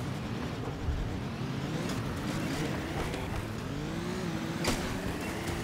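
A battered car's engine roars in the game Concept Destruction, a continuous droning motor with rising and falling pitch and occasional sharp bangs.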